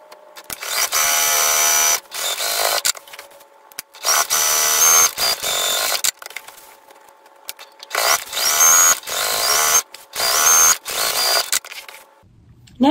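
A sewing machine bastes the sides and bottom of a laptop bag in loud, fast-stitching bursts of one to two seconds, separated by short pauses and clicks.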